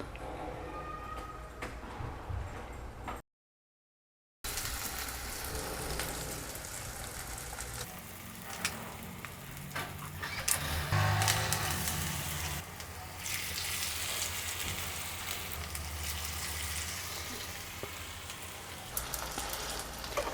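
Aloo tikki sizzles in hot oil in a home kitchen, a steady crackling hiss like light rain that holds throughout, with a short gap of silence near the start and occasional faint talk.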